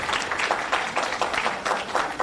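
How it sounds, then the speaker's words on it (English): Audience applause for the panelists at a public finance conference in a full room, a steady dense patter of many hands clapping at moderate distance for a couple of seconds. "Let's give a round of applause to our panelists."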